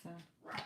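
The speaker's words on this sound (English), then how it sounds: "Excuse the dog." A female dog barks twice in quick succession from another room, heard through an open window. The barks are short, muffled and fairly faint.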